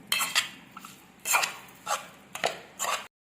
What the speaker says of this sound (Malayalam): എല്ലാം കൂടെ മിക്സ് ചെയ്ത് കൊടുക്കാം.